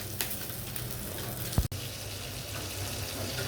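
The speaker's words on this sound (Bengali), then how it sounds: "চালকে ধুয়ে আমি 10 মিনিটের জন্য ভিজিয়ে রাখবো।" Rice is rinsed under a running kitchen tap while preparing hilsa pilau: a steady, close rush of water with one brief knock midway and no voices.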